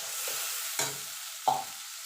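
Ginger, garlic and green chilli paste frying for mutton curry, a low hiss broken by two distinct scrapes of a spoon stirring through the pan.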